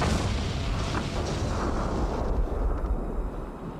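An explosion blowing off a steel door erupts with a deep, sustained roar of rumbling debris that fills the whole moment before slowly tapering off.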